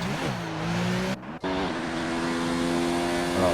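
A Mercedes-Benz race car on medium tyres, driven in a racing game at the 2019 Canada track, screams close up from onboard, its engine pitch climbing through the gears with a brief gap at a shift before rising again.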